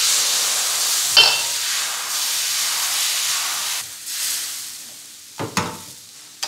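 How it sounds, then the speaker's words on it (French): Buckwheat galettes cook on a hot griddle, giving a steady soft sizzle and hiss throughout, broken by a few brief louder scrapes and clatters as they are turned. "on va cuire des galettes"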